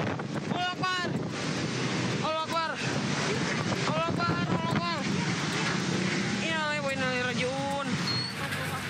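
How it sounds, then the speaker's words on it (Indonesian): Tornado whirlwind gusts strike a street in Ujung Berung, Bandung, a constant heavy roar battering the microphone while agitated voices repeatedly shout over the wind. "Detik-detik angin puting beliung yang menerjang kawasan Jalan AH Nasution Ujung Berung, Kota Bandung terekam kamera warga"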